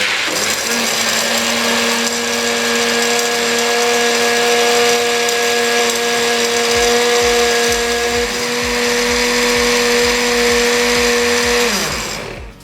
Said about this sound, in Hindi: अब इसको अच्छे से 2 मिनट के लिए ब्लेंड कर लेंगे।